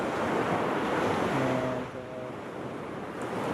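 Waves wash onto a beach in Sapporo, Japan, on a cloudy, rainy day. The surf rumbles steadily and softly, mixed with wind noise, and there is a faint, brief tonal sound partway through.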